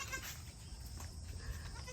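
A male goat on a small farm gives a faint bleat over low background noise during a short stretch.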